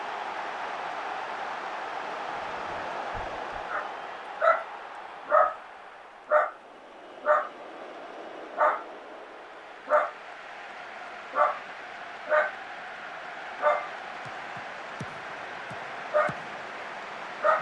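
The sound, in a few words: dog barking at something put through the letterbox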